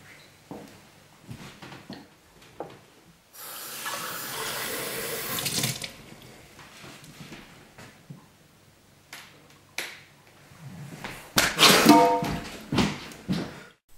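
A household tap gushes water into a sink for about two seconds, a steady loud rush, surrounded by quieter clicks and knocks before and after.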